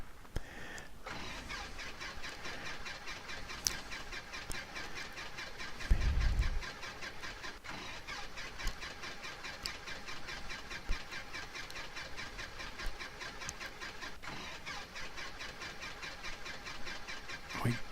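In X-Plane 11, a simulated Piper Super Cub engine cranks, catches with a brief low burst, then settles into a steady, buzzing idle that runs to the end, with no talking.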